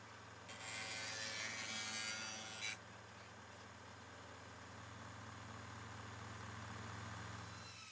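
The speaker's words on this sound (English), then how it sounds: "Next, I rounded the corners of the base on the sander." A sander rounds the corners of a metal base for a model steam plant feed water tank, giving a steady hissing grind of about two seconds over a continuous motor hum that keeps running afterward.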